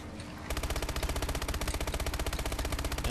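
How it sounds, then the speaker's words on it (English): Rapid automatic gunfire at zombies in Call of Duty Zombies on the Origins map, a steady, loud, evenly spaced burst of shots starting abruptly after a brief quiet moment and continuing without pause. "And I am going to open fire on all these zombies."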